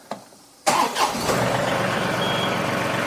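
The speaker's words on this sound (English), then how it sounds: "we're going to start our tractor up." A compact tractor engine turns over and catches abruptly, surging before dropping into a steady, rough diesel idle close at hand.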